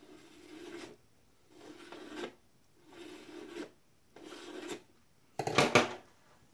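Scribe scratching a 15 mm radius circle on metal, four slow rasping strokes with short pauses between them, then a sharper, brighter scrape at the end, close and clear with no talk.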